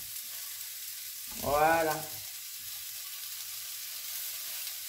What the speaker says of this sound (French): mes oignons ont bien commencé à rissoler